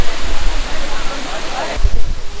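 Dudhsagar waterfall in Goa roaring as a dense, continuous rush of water, loud and steady throughout with some wind buffeting the microphone.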